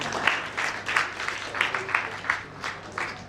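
Audience at a Vedic conference hall clapping in applause, a brisk continuous patter of many hands with rhythmic swells, fairly close and moderately loud, without voices over it.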